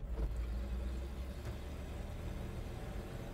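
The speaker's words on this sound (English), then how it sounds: "It's got a real cool exhaust system. It's got that old truck sound to it." A 1961 Ford F100 pickup truck's engine and exhaust give a steady, deep low rumble while driving, loud and continuous with no talking.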